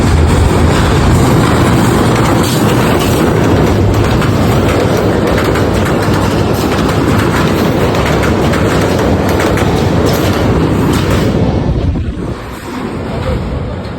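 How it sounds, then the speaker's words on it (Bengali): A train rolls across the Saguni railway bridge at Pirganj, high above flowing water, as a loud, continuous rumble and clatter with wind buffeting. It fades abruptly near the end. "ট্রেন কিন্তু হর্ন দিতে দিতে চলে আসতেছে"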